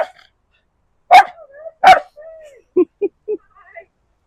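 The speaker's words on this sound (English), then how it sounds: "that was the neighbor's dog." A neighbor's dog gives two sharp barks, then whimpers and short yips in a quiet outdoor garden after a hurricane, close and clear against silence.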